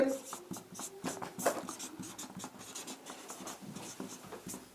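A pen scratches across paper in quick strokes, close and soft, during a Sanskrit lesson while a teacher talks over it.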